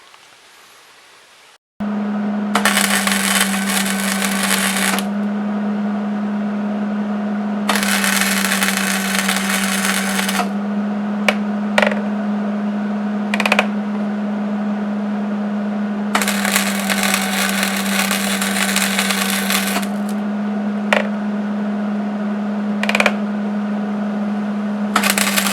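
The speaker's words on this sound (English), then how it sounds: "I'm going to weld it up and then I'll show you." Welding a cab mount plate on a Toyota Tacoma, a steady loud crackling arc with a constant low hum, broken into several long bursts of sizzle with brief pauses and a few sharp clicks between them.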